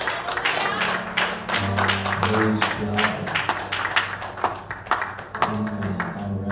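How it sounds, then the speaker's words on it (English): A church congregation claps along during a Sunday evening service, a dense steady patter of many hands that runs throughout, mixed with sustained musical tones and a voice speaking over it. "would you clap your hands to the Lord?"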